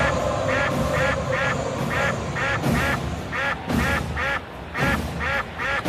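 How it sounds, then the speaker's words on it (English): Rapid, repeated duck quacks ring out in bursts at a live Braves vs. Mets baseball game with the bases loaded, loud and rhythmic over a steady crowd murmur. "Ducks all over the pond."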